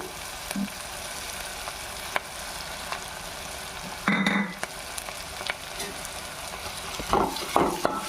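Tomatoes and curry leaves fry for an Andhra chicken curry, sizzling steadily up close with stirring scrapes and a few louder clatters near the end.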